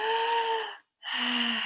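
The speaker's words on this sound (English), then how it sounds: "Exhale." A deep, breathy exhale through the mouth, followed after a short pause by a strong inhale, loud and close during a breathing exercise.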